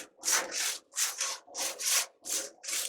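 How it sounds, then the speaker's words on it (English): Dirty metal grates of a smoker pit being scraped, with about ten quick rasping strokes in pairs at an even rhythm, close up and alone. "We'll scrape these off a little bit."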